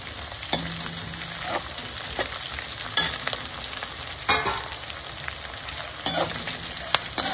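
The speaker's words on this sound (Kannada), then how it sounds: "ಡ್ರೈ ಕರಿಬೇವು ಹಾಕ್ತಾ ಇದ್ದೀನಿ." Dry curry leaves sizzle and crackle in hot oil with garlic and chilli, a steady close frying hiss broken by sharp pops and stirring clatter, with no voices.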